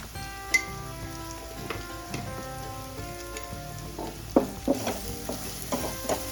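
Masala with turmeric being stir-fried in oil in a pan, giving soft steady scraping and light sizzle with a few sharper clinks of the spoon, close and moderately quiet, no voices.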